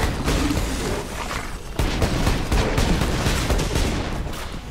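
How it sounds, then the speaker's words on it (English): Sustained automatic gunfire from a machine gun in Borderlands 2 rattles on loudly and continuously, with dense rapid bursts layered over booming game effects and no pauses throughout. "This machine gun's bad."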